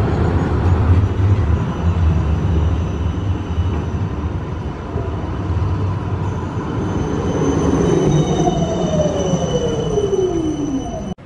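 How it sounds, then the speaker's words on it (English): An Amsterdam tram rolls past close by with a steady rumble of wheels on rails, then a rising high squeal as the wheels grind near the end; no voices. "Sakay kami dyan sa tram."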